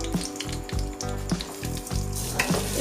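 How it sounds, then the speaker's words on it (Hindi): Vermicelli (sevaiyan) fry in a pan for a sweet milk dish, giving a soft, steady sizzle broken by rhythmic scraping stirs about every half second, close up and fairly quiet, with no voices. "सेवइयों को फ्राई कर लें।"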